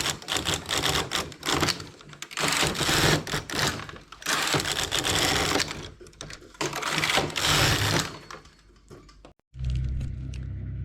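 A knitting machine carriage knits rows of raised stitches on the front needle bed, a loud, close mechanical clatter of rapid rattling passes that runs almost continuously, with a brief pause near the end before the motion resumes.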